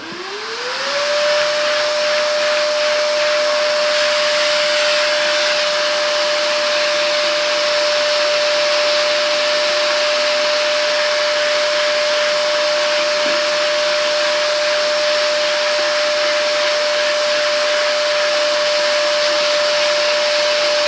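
A Hychika 18V cordless wet and dry vacuum spins up quickly and then runs with a steady, loud, high whine that holds constant for the whole stretch.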